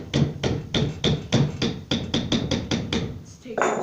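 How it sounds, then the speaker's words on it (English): A screwdriver is struck repeatedly to knock a stuck part free from an old generator: about a dozen sharp metallic taps in a quick, steady rhythm, close and loud, with a brief voice at the very end. "It's taking a screwdriver and kind of bonking it to get it out."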